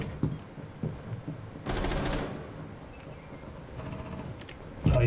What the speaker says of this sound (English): I'm getting shot through the wall now.